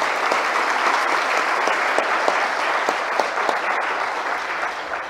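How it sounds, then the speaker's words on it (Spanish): At a forum on funding political parties, the audience gives a steady, dense round of applause. The clapping holds at the same level for several seconds, with a few sharper individual claps standing out. "Un fuerte aplauso para ellos,"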